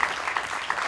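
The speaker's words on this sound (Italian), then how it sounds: "quindi un grande applauso" Audience applause at a tribute event for the Nathan Never comic, a brief burst of fairly faint clapping with a few sharper claps standing out.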